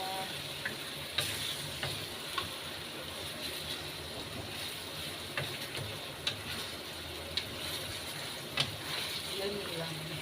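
Chicken afritada sizzles and simmers steadily in a pan while a utensil stirs it, giving occasional light scraping clicks and ticks against the pan over the continuous frying hiss.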